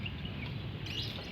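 An African bird calls from a rooftop with a few faint chirps over steady outdoor background noise.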